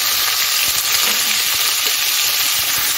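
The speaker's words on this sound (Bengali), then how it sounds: "পেঁয়াজটা আমি একটু নরম করে হালকা লাল করে একটু ভেজে নিচ্ছি" Sliced onions fry in a pan for a Bengali steamed egg curry, giving a loud, steady hiss of oil and crackle that holds evenly throughout with no talking.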